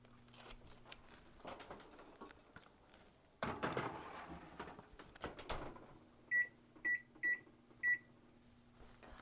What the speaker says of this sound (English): The timer just went off for our hamburger buns.